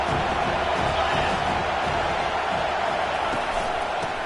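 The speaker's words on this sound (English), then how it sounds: "this crowd will blow out a vocal cord to help this defense" Stadium crowd noise from College Football 25 on a third down, a steady, loud roar of many voices with no breaks. Faint thuds sit underneath it.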